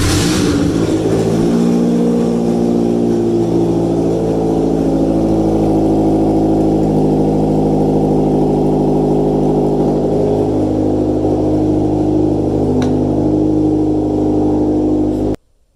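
A Nissan Rogue engine with a rattling fault, exhaust manifold removed and converter faulty, cranks and catches, then runs at a loud, steady, droning idle until it cuts off abruptly at the end.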